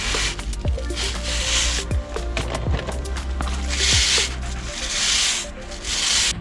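A brush scrubs a mountain bike wheel in quick, rhythmic rasping strokes, close and fairly loud, with brief pauses between bursts and no talking.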